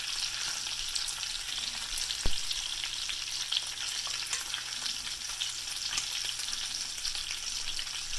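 Good-quality bacon sizzles steadily in a pan over medium to medium-high heat, a constant bright crackling hiss with a single sharp pop partway through and no voices.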